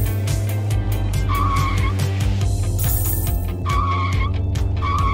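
Continuous game engine roar and repeated tire-squeal skids from a car drifting in the Drift Boss mobile game, with short screeching bursts recurring over a steady loud motor drone and background game music.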